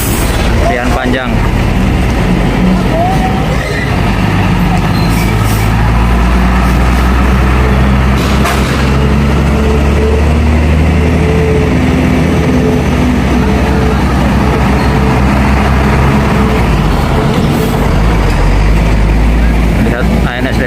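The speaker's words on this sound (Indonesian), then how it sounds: "Ramai mobil mengantri, guys." A long traffic queue of cars and trucks at Bajubang, held up by a broken-down car, rumbles loudly and continuously with idling engines while a voice talks over the steady drone.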